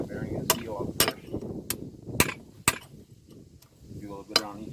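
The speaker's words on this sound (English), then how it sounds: "just knock the bearing and seal out first" A hammer knocks a bearing and seal out of a boat trailer wheel hub, sharp metallic strikes landing about every half second in an uneven run, close up, with low mumbling and handling noise between blows.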